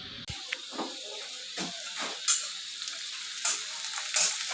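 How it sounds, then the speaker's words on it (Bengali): Onions frying in a pan, a steady close sizzle with a few louder crackling bursts and soft stirring scrapes, heard alone without talk. "পেঁয়াজ ভাজা চলছে।"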